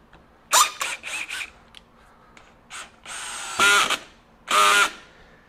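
A DeWalt DCD794 Atomic 20V brushless drill driver sinks a roughly 2.5 inch drywall screw in several short whirring bursts with gaps between, close and moderately loud, without speech.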